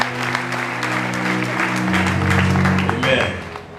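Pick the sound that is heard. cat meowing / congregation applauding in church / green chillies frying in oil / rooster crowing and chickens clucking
congregation applauding in church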